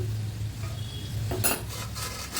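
Cassava chips tossed with salt and chili powder in a pan give a steady low sizzle, then a run of brighter scraping and rustling stirs toward the end.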